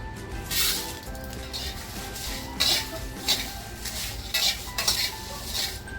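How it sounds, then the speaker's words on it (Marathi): Whole garam masala spices being dry roasted in a pan, giving repeated light scraping and rattling clinks as they are stirred, close by and fairly steady, with no talk. "हे गरम मसाले आहेत ना मी अगोदर भाजून घेणार आहे"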